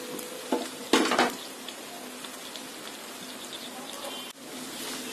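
Chicken, carrot and capsicum sizzle in hot oil with a steady, close hiss, and a louder crackling burst comes about a second in as the pan is stirred.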